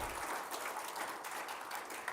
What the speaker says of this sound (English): that's why the clapping got quiet